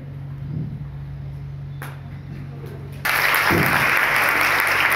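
Applause at an honouring ceremony at a college event breaks out partway through, starting as scattered claps and swelling into loud, sustained clapping, with a low hum and faint voices before it.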